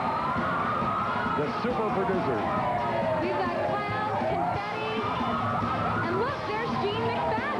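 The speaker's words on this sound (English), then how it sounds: "that beautiful sound of sirens belongs to Manhattan's finest" Police sirens wail at the 1994 Macy's Thanksgiving Day Parade in Manhattan, several rising and falling tones overlapping loudly and continuously beneath a commentator speaking over the crowd.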